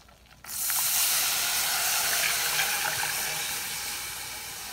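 Stock poured into a hot pan of thickening gravy sets off a sudden loud sizzling hiss that holds steady and slowly fades slightly while it is stirred, close up with no talking.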